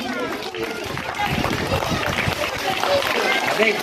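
Steady applause fills a school ceremony honouring teachers, a continuous crowd of clapping hands at close range with voices mixed in.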